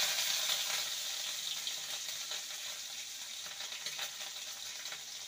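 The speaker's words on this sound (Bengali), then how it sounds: "এবার দিয়ে দেবো গ্রেট করা আদা" Grated ginger frying in a pan of hot oil tempered with spices and bay leaf, for sago khichdi: a steady, close hiss and crackle of sizzling that runs throughout, slowly easing a little, with no talking.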